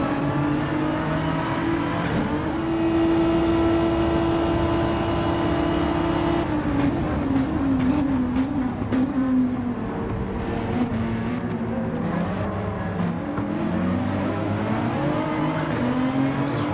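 Race cars, a Porsche among them, roar down a straight at Monza. Loud, sustained engine notes hold steady and then shift pitch as the cars run close together, with no voices over the engines.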